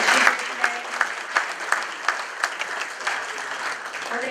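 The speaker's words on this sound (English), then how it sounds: "can we get a round of applause for Eddie and James?" Audience applause in a meeting room for two presenters, a steady round of many clapping hands with a few louder claps standing out, lasting several seconds without speech.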